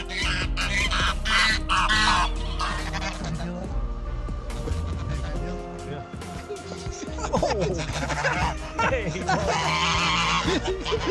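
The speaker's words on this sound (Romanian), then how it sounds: "acest stol de gâște fermecătoare îl salută cordial pe stăpânul lor de fiecare dată când el se întoarce la fermă" A flock of geese on a farm honks and squawks loudly in repeated overlapping calls, close by, as they greet their owner, with a person talking over parts of the noise.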